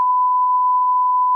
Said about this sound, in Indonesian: Ada ringtone ya.